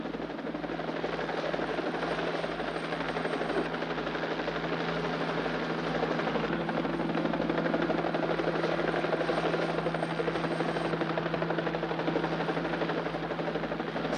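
A helicopter flies steadily overhead above a canal setting in Venice, with its rotor beating in a continuous, even thump and a broad engine roar that stays constant throughout, and no voices.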